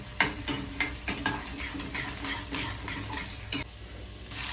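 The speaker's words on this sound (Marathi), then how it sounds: "तर लसूण टाकलंय सर्वात पहिले तेल गरम झाल्यावरती" Garlic dropped into hot oil and stirred, with irregular clinks and scrapes of a spoon against the pan over a faint sizzle, close by and with no talk.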